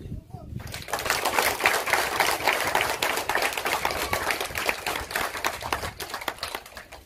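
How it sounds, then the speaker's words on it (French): An audience at a community kit-donation event applauds itself: a loud, sustained round of many hands clapping rapidly and densely, following a brief quieter moment at the start, with a voice faintly present. "vous saluer et vous demander de vous applaudir vous-même"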